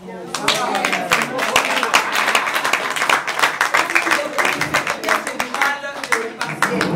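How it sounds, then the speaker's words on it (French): A group claps in lively applause, dense irregular hand claps continuing for several seconds with voices mixed in, fading slightly near the end. "Est-ce que je mérite pas des applaudissements?"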